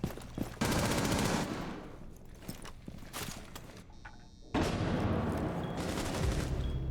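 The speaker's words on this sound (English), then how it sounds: "Shots fired once again." Automatic gunfire in a competitive Rainbow Six Siege round, loud close bursts near the start and again after a brief lull, with scattered single shots and footsteps between.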